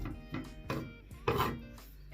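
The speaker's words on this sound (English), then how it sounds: "It's up to you how you will cut your onions." Knife chopping onions on a wooden board at home, about five separate soft cuts, close and fairly quiet.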